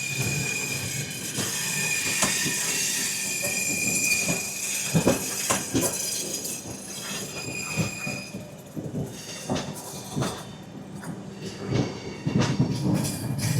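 The Vivek Express, Kanyakumari to Dibrugarh, running near Markona station in India: loud rattling wheel clatter and repeated sharp clacks over rail joints, with intermittent squealing and a continuous rumble, heard close up without voices.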